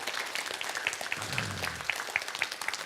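An audience at a Korean health seminar breaks into steady, moderately distant applause that continues evenly throughout, with no talking over it.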